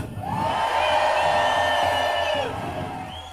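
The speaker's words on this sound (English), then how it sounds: "Give me a cheer if you agree with them" A crowd at a No Kings protest in Houston bursts into loud sustained cheering and whooping, swelling then fading after a couple of seconds, with some amplified hum underneath.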